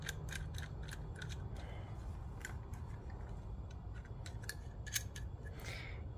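A handheld nutsert tool is squeezed to set a threaded rivet nut while fitting Rally Armor mud flaps on a Ford Maverick, producing a steady run of close, crisp mechanical clicks and ratcheting snaps over a low background rumble.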